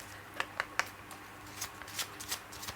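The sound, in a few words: shuffling Lenormand cards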